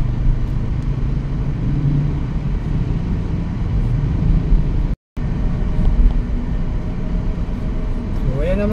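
Road traffic rumbles steadily around a car climbing uphill toward Antipolo City from Marikina, with a continuous low engine and tyre drone and a brief dropout midway.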